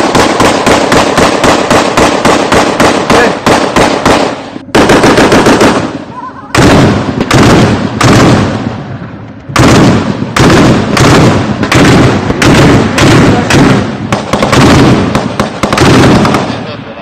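Loud bursts of close machine gun fire in rapid rhythmic strings during a border battle, separated by short pauses, with shouted voices among the shots.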